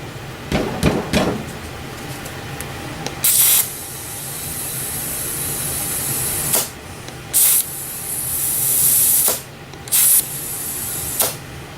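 Air hisses in loud bursts as a tire fitted with an inner tube is inflated, the dry-rotted tire's bead seating, with several short sharp sprays starting and stopping among fainter clanks.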